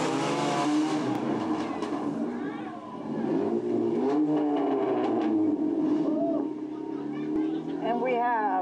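Race cars roll past in a small-town 4th of July street parade in Woodsville, New Hampshire, engines rumbling and revving at close range beneath an announcer speaking over a loudspeaker.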